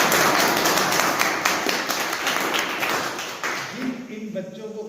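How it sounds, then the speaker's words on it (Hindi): An audience claps together in a loud, steady wash of overlapping hand claps while a voice talks over it, the applause thinning slightly toward the end. "अरे ताली बजाइए जिनके"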